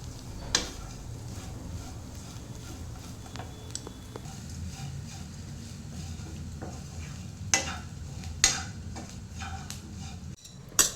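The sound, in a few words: grated coconut frying in a pan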